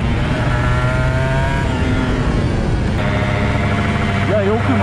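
A Honda NSR250R MC28 two-stroke motorcycle runs at full throttle on a racing circuit, its engine whining loud and close with rising and shifting pitch, while a rider talks over it.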